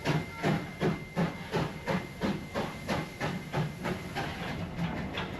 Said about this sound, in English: So here is the train now disconnected, disappearing down the track in front of us